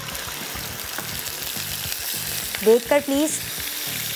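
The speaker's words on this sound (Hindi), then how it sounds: "अब यही मिक्सचर हम इसके अंदर डालेंगे इस ऑयल में" A mixture poured into hot oil in a pan, frying with a steady bubbling sizzle throughout, close and moderately loud, with a brief spoken voice toward the end.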